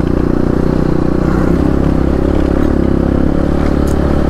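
A Honda XR200 motorcycle engine idles or runs steadily up close, with a loud continuous low drone and mechanical clatter throughout, with no gaps.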